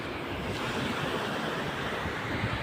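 Large ocean waves breaking on a beach, a continuous loud roar of surf with wind noise buffeting the microphone.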